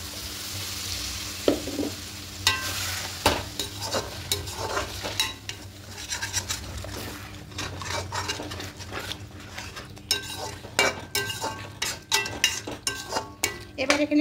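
Spiced potatoes stirred and frying in a pan for an Aloo Potol Rasa, with a steady sizzle, scraping spatula strokes and occasional clinks of utensils against the metal, close and continuous without talk.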